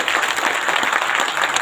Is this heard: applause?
yes